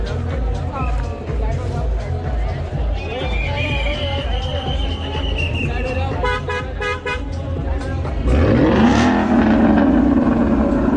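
A car revs hard during a tire burnout at an outdoor car meet, its engine roaring steadily and surging louder near the end, while horns toot and a crowd chatters in the background.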